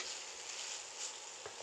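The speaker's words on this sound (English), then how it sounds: "Hear the sizzle." Steady crackling sizzle of eggplant and whole wheat pasta ingredients frying in a hot pan, a dense hiss throughout with a couple of faint clinks near the end.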